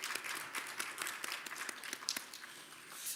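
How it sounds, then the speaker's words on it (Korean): A church congregation claps in congratulation during a Christmas thanksgiving service, a soft, steady patter of many hands filling the room for a few seconds with no voices. "우리 축하의 박수 한번 보내주시겠습니다"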